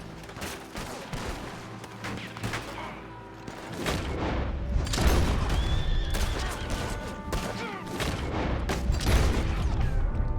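Gunfire and headshots in the video game Red Dead Redemption 2: dense, repeated loud gunshots, near and sharp, building into a sustained barrage with occasional voices beneath the shots.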